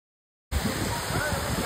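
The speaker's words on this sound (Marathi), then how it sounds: "हा आहे सवतसडा धबधबा, जो चिपळूणपासून फक्त 4 किलोमीटरच्या अंतरावरती आहे।" Savatsada waterfall near Chiplun in the Konkan roars as a dense, steady rush of falling water, starting abruptly after a moment of silence and continuing at an even level.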